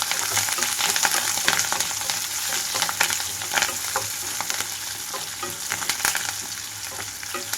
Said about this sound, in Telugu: కట్ చేసి పెట్టుకున్న ఉల్లిపాయ ముక్కలు, ఇందులోనే కొన్ని కరివేపాకు రెమ్మలు కూడా వేస్తున్నాను